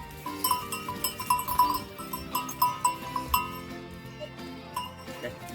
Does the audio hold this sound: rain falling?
no